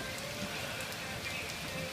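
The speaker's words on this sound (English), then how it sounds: "Yeah, pouring down rain, thundering and everything." Heavy rain pours down steadily in Burns Park, Arkansas, a dense, continuous hiss of drops striking the ground and foliage close by, with no talking.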